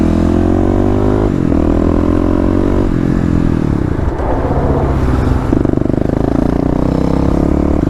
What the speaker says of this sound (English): I locked up the rear wheel for sure